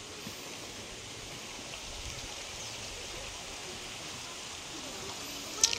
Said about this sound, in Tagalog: Pero ito po yung nag-iisang ilog dito sa lugar na to.